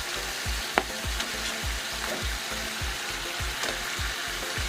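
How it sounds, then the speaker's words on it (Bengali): Fried potatoes go into a pan of cooked-down chicken for biryani, bringing a steady close sizzle with rhythmic scraping strokes of a spoon, repeated about twice a second. "আমি এবার ভেজে রাখা আলুগুলি দিয়ে দেবো"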